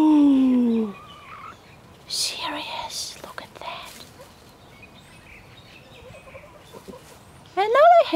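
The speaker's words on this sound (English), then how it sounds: "And that's all about the red hen." A red hen clucking among a backyard flock of chickens, short throaty calls at the start and again near the end, with a person talking softly in between.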